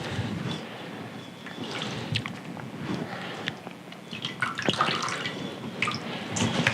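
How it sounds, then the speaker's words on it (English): Soaked bread being rinsed and squeezed by hand in a kitchen while making fried meat patties, giving a steady wet sloshing and dripping close by, with no talk. "Rinse it out, squeeze out some of the bread if it seems to be too saturated."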